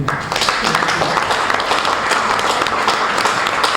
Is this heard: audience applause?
yes